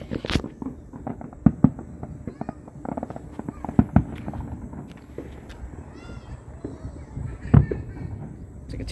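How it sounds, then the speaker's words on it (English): Fireworks over a lake crackle and thump at irregular intervals, several sharp bangs standing out over a murmur of distant voices and background noise. "Those are some awesome fireworks."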